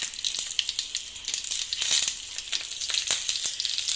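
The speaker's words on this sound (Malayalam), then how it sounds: "നമ്മുടെ കടുകൊക്കെ പടക്കോ പടക്കോ പടക്കോ എന്ന് പറഞ്ഞ് പൊട്ടി തുടങ്ങിയിട്ടുണ്ട്" Mustard seeds crackle and pop in hot oil for a Kerala mango pulissery, a dense run of sharp close snaps over steady frying sizzle, no voices.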